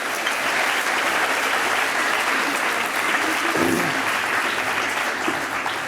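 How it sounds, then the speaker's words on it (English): Sustained, loud applause from a large audience at an awards ceremony honoring Baton Rouge high school athletes, steady clapping filling the room throughout with a faint murmur of voices underneath. "another round of applause for our all-time greats"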